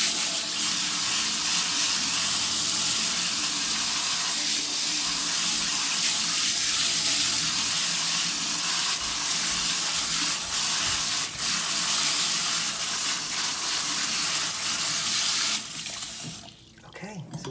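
Running water rinses dragon fruit seeds through a screen in a sink, a loud, continuous splashing rush that holds steady before cutting off abruptly near the end.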